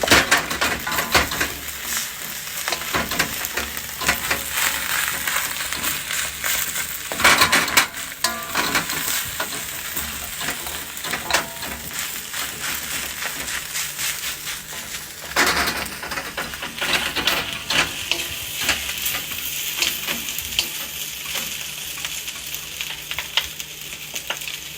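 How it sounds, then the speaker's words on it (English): Rice stir-fried in a wok gives a loud, close sizzle broken by repeated stirring and tossing scrapes in an irregular rhythm. No voice is heard over it. "you just stir fry this rice"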